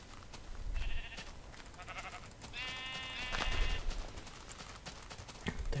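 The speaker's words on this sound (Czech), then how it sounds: "A další ovce, tak taky zabijeme." Sheep bleating in the Minecraft video game, two or three short wavering bleats in quick succession over a quiet, faintly noisy game background with no speech.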